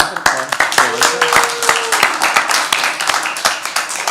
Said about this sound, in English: You can applaud for me too.